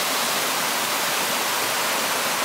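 Waterfall in Shiretoko, Hokkaido, a dense, continuous roar of rushing water close by that fills the clip without a break.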